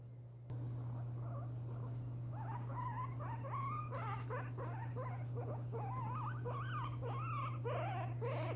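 A guinea pig complains during a nail trim with a run of repeated high, wavering squeaks and chirps, fairly close, over a steady low hum.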